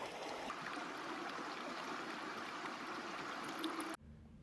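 Water squeezed from a filter bag into a container outdoors on the tundra, a continuous close trickling and splashing that cuts off abruptly near the end.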